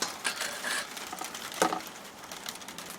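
Sleet falls on a roof: a faint, irregular patter of small ticks and taps, soft and distant, with a few slightly sharper hits scattered through.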